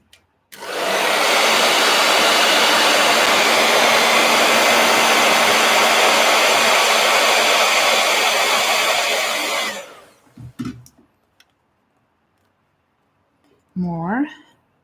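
A heat gun blows a loud, constant, broadband rush for about nine seconds and then cuts off, with a few soft knocks and a short voice afterward.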